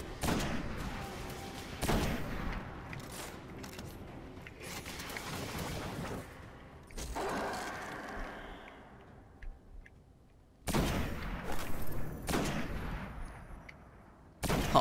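Gunfire in the video game Destiny: The Taken King during a story mission, with repeated bursts of loud shots separated by quieter gaps and a final burst at the end.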